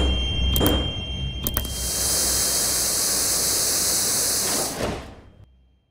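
Metro train sliding doors on a Moscow line close with a loud, sustained pneumatic hiss lasting about three seconds, preceded by a couple of sharp clunks and ending in a soft thud as the doors shut, with rumbling carriage noise underneath.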